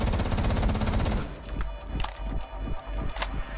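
Gunfire in the Rainbow Six video game: a dense burst of rapid automatic shots at first, then scattered single shots and impacts, loud and close with no talk.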